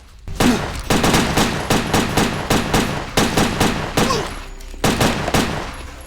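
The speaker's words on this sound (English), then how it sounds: "You can pretty much just run straight through shooting everything." Rapid gunfire in the video game Headhunter, loud repeated bursts of shots in a steady rhythm with brief gaps between volleys, continuous over several seconds.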